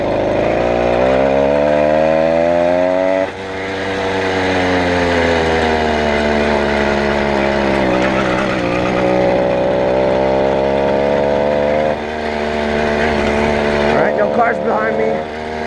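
A stock motorized bicycle engine drones loudly and close throughout a ride, its pitch climbing and sagging as the throttle changes, with two brief dips in revs and wind rush underneath.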